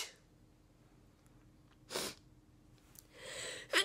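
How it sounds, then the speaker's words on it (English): A single sharp sneeze bursts out of a quiet room, followed a moment later by a longer breathy exhale and a sniff. "I sneeze a lot"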